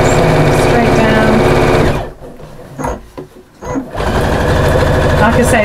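Overlocker (serger) stitching fabric for a wall hanging, running loud and steady with a fast mechanical whir, briefly pausing midway before starting up again.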